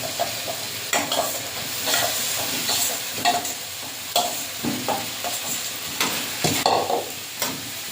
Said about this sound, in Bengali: মশলাটা কষানো হয়ে গেছে, এই মশলা থেকে তেল ছেড়ে গেছে, এবারে ভেজে রাখা আলুগুলো দিয়ে দেবো